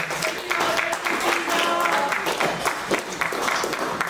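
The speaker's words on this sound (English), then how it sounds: "how about a round of applause one more time for Sister Onoa and Katina" An audience at a family reunion breaks into sustained applause, dense clapping at a steady loudness throughout with voices mixed in.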